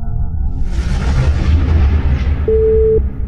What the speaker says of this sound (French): C'est un téléphone.